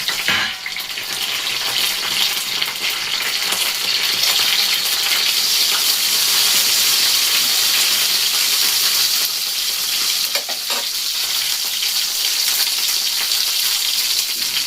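Bay leaves and dried red chillies fry in hot oil for a Bengali winter-vegetable shukto, giving a steady, loud broadband sizzle that runs unbroken throughout with a brief spatter near the start.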